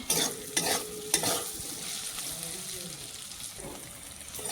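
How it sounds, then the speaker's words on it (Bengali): Potatoes fry in hot oil for a soybean curry, a steady crackling sizzle with a few louder scrapes of a spatula early on, then settling into an even hiss. "আলুটাকে ভালো ভালো করে ভেজে নিব আগে"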